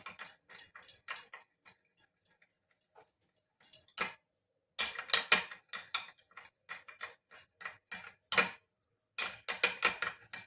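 A spoon stirring a cornflour mixture in a bowl, making quick bursts of light clicking taps against the sides, broken by short pauses, close and clear with no speech.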